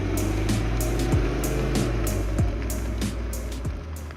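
A supercharged V8 in a 2018 Cadillac CTS-V rumbles at idle after being fired up, with a deep, steady drone and several brief revving swells, loud and close with no talk.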